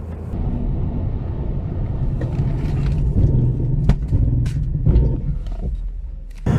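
Acura Integra Type S braking hard from motorway speed during a braking test, a steady close-up rumble of road and tyre noise with brief thumps and squeals as the car slows.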